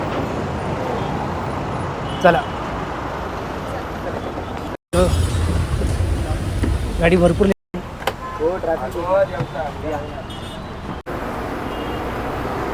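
Arya Travels bus, number 4449, pulling in and idling on a roadside stop on the Kasarde Titha to Padel canteen route, steady engine and road noise throughout with a loud burst mid-clip and people talking over it.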